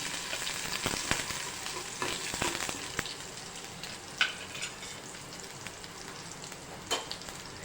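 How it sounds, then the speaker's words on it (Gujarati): Chopped green garlic sizzles in hot oil with crackled cumin seeds while kachori filling is being cooked. The frying hiss is steady and close, punctuated by sharp spoon taps and stirring clicks, with no voices. "હવે આ લીલું લસણ લીધેલું છે લીલું લસણ એડ કરી દઈએ"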